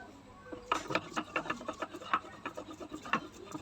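Dried puti fish is being ground with chillies and garlic, giving repeated rough rubbing and scraping strokes in an uneven rhythm, close and moderately loud.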